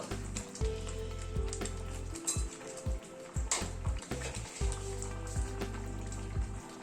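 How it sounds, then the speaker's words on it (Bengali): Lentil dal with spinach bubbles in a pan on the stove, a soft simmering hiss broken by repeated sharp clinks of a utensil against the pan. "ডালটা প্রায় মিনিট 3-4 মতো ফুটে উঠলো।"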